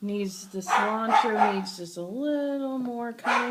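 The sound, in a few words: dog barking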